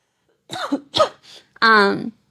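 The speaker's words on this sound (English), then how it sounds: "I have to cough again." Close, dry coughs, a few quick bursts, then a longer voiced throat-clearing at the end.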